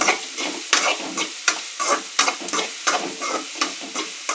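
Ginger and green chilli stirred in a pan for upma, a spoon scraping in a steady rhythm of sharp strokes over a light sizzle, close and clear with no talking.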